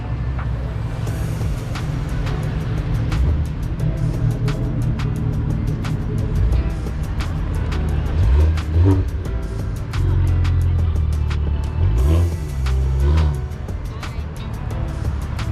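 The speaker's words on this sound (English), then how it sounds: "see if we can get this Cadillac and Camaro pulling out. So we'll get some drive-bys real quick." A Cadillac and a Camaro pull out and drive past at a car meet, their engines a loud, steady rumble that swells and fades as each car goes by, with no talking.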